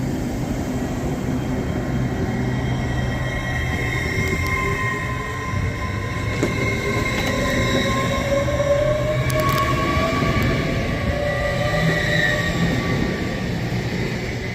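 An LNER Azuma train pulls away from Peterborough station on the East Coast Main Line, a loud continuous rumble with rising motor whine and faint wheel squeal, close by and with no talk.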